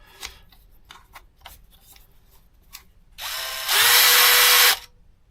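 A Craftsman brushless drill from the Rp+ combo kit gives a few short clicks and taps, then spins up in a steady whine that steps to a higher, louder speed before stopping, close and alone.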